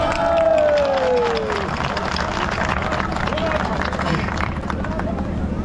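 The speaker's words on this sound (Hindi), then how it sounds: "मीडिया के भाइयों के लिए जोरदार ताली बजा दीजिए" A large crowd of employees at a rally in Haldwani claps and cheers loudly over a continuous murmur, while a voice speaks over a loudspeaker near the start.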